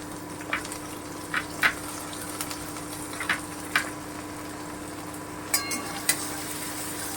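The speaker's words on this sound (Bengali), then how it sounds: "এবারে আমি কুচনো পেঁয়াজটা দিয়ে দিচ্ছি" Chopped onion frying in a pan gives a steady close sizzle, broken by scattered light clicks and taps of a spatula against metal, with a faint hum running underneath.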